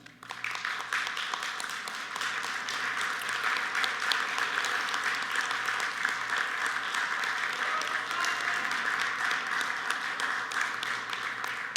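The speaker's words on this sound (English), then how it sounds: "Graduates, please stand and give them a round of applause." A graduation ceremony audience gives sustained applause, a steady wash of many clapping hands lasting well over ten seconds at an even, moderate level with no clear voices on top.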